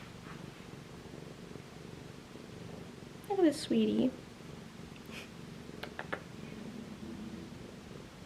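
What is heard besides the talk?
cat purring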